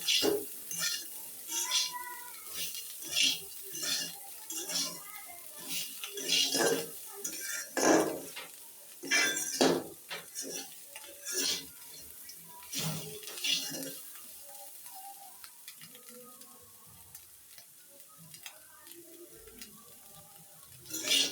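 A spoon clinks and scrapes against the pan as garlic is stirred into cooking Malabar spinach greens, a run of quick metallic taps and clatters that thins out to softer stirring near the end.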